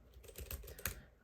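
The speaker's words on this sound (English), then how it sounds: "the keyboard felt nice to type on" Keys clatter on a Keychron K3 low-profile keyboard in a short burst of typing, a quick run of soft, quiet clicks heard up close with no talking.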